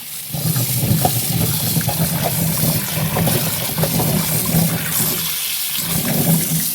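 Koorka (Chinese potatoes) washed in water to rinse off mud, giving a steady, busy sloshing and splashing of water with low churning underneath, continuous and fairly loud throughout.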